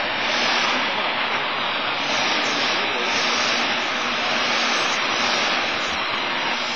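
Radio receiver static hiss with the built-in antenna extended, a dense, steady broadband noise that fills the whole stretch at high level without pause.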